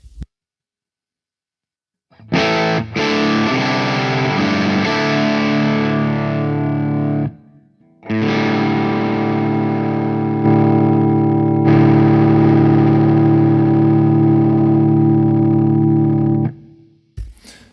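Overdriven electric guitar through a Marshall-style preamp with all controls at 12 o'clock plays two sustained passages separated by a brief gap, crunchy and loud with ringing chords.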